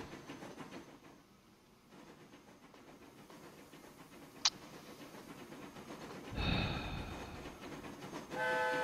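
A train in the video game Train Fever rolls along in a steady, low rumble. Midway comes a short sharp click, and later the rumble swells louder with a higher tonal whine over it, which could be a horn or brakes.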